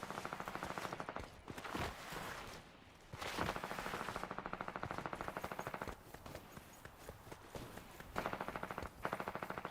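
Rapid automatic gunfire from the Fortnite video game during the red cube event, firing in long sustained bursts with short pauses between them, loud and close with no talking.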